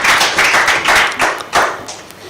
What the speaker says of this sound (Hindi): तालियों से उनका इस्तकबाल करें